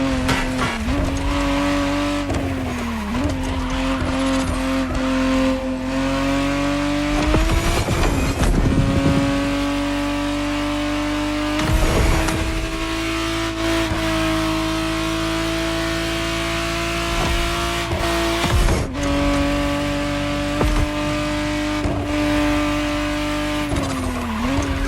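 A 1991 Ferrari Testarossa in a racing video game, its engine revving hard and holding high notes, with repeated gear shifts, dips and tire squeals across a loud continuous run.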